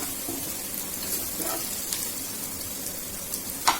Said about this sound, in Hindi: अभी आलू में थोड़ी कसर है, इसलिए हम इसको थोड़ी देर और फ्राई कर रहे हैं